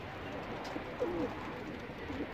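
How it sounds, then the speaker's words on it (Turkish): A male pigeon in a loft gives a soft, low cooing phrase, then a shorter coo, against a dense background of other birds in the enclosure. "Kim gelse ötüyorsun."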